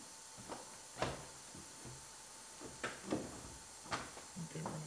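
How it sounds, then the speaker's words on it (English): A Lexus IS 250 door mounted on a door stand gives faint knocks and latch clicks as it is fitted during collision repair work, with several soft metallic taps spread through a quiet room. "Okay, we're gonna try to latch the back of it."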